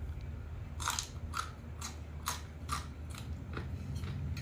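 Someone eats fresh vegetables and beans with a meal of Thai rice noodles, taking about eight close, crisp crunchy bites in an uneven rhythm, with no talking.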